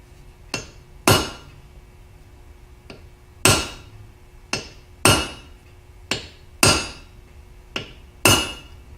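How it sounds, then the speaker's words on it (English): A hammer strikes a center punch into metal on an anvil, sharp ringing hits spaced irregularly, some single and some in quick pairs, about a dozen blows close up with no talking. "I always like doing this center punching on the anvil."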